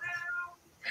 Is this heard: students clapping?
no